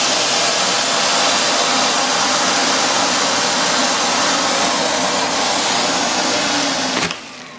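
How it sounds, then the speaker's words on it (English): A household vacuum cleaner draws air out of a plastic storage bag holding a blanket, giving a loud, steady roaring whoosh for several seconds before it cuts off abruptly. "And then I'm gonna turn my vacuum cleaner on."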